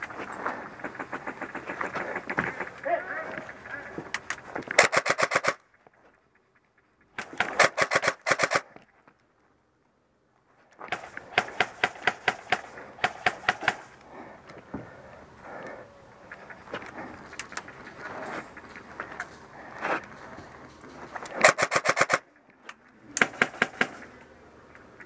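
Rapid bursts of automatic gunfire in a video game, loud and close, broken by a few brief silent gaps between volleys.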